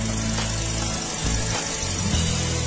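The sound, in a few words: car engine running at idle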